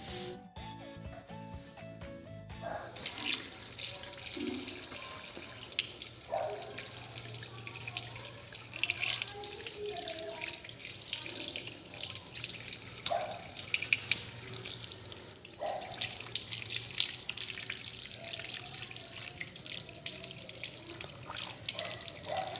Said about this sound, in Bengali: বাসন কটা এখানে বেসিনে ছিল এই কটাকে ধুয়ে নিলাম